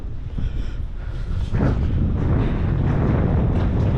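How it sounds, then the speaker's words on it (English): Wind gusts through a deep abandoned mine tunnel under a mountain, a loud, steady low rumble that buffets the microphone and swells slightly midway. "the breeze that you can feel in this tunnel is insane"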